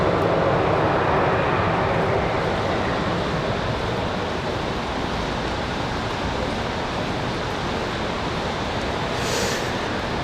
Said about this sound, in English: One using reverse thrust.